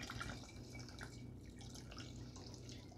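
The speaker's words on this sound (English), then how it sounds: "we pour in the hot wort to the fermenter and then we top off with chilled filtered water" Hot wort pours into a beer fermenter with a faint, continuous splashing and trickling of liquid, low in level throughout with no voices.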